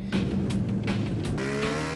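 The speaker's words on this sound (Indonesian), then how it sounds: "Deru suara mesin terdengar dari dapur pacu berkapasitas 150 cc saat motor berusaha menaiki tanjakan berlumpur" A 150 cc off-road motorbike engine drones steadily as the bike struggles up a muddy hill on a rural trail in Rumpin, Bogor, a loud, continuous rumble with shifting pitch and no speech.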